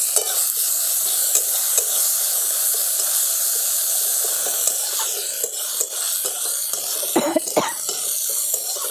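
Ginger and green chili paste hits hot oil already fried with whole garam masala, cloves, cardamom and cinnamon, giving a steady loud sizzle with bursts of sputtering and stirring near the end.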